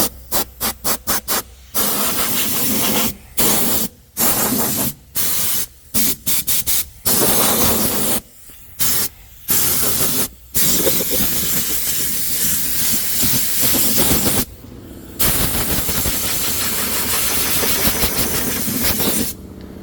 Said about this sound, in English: I'm gonna blow this off with some compressed air